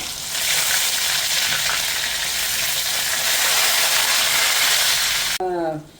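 Mustard seeds, ginger garlic paste and curry leaves fry in oil for chili achar, producing a loud, close, steady sizzle that runs unbroken until a voice briefly speaks at the end.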